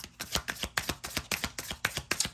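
Message cards are shuffled by hand in a quick, even rhythm of papery riffles and soft slaps, close and clear, with no talking.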